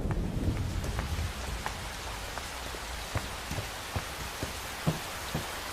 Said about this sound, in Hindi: आ जाओ, बारिश आने वाली है, अंदर चलते हैं।